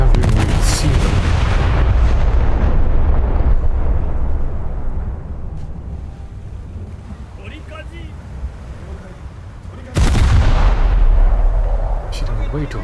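Heavy naval gunfire from the battleship Kongo in a naval combat game, deep booming salvos with rumbling tails, a fresh blast near the end, a voice talking faintly underneath.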